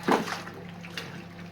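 A short swish of water as cloth nappies soaking in a tub are stirred, one splashy slosh up front followed by quieter lapping.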